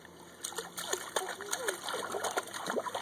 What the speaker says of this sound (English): let him just splash for a second